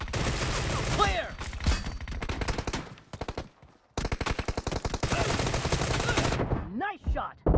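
Gunfire in the PUBG video game, with dense rapid automatic bursts, loud and close, broken by short pauses, and a voice speaking briefly between volleys.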